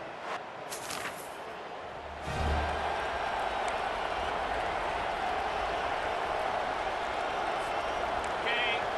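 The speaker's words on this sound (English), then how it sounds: "This crowd bringing the energy and noise early." Stadium crowd roar in College Football 25 during Air Force at Texas Tech, a continuous dense wash of cheering that swells sharply after a couple of seconds and stays loud and steady underneath a commentator's voice.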